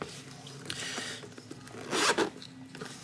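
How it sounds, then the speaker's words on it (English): Zipper with rubberized plastic pulls on a Warriors Tattoo Supply WOS E70 tattoo machine case, drawn in a few close, quiet rasping strokes, with a louder pull near the end. "rubberized plastic zipper handles."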